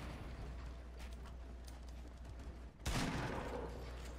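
Fortnite Battle Royale gunfire near Loot Lake: a low, steady background of distant battle noise, then a sudden louder burst of shots toward the end that keeps rumbling on.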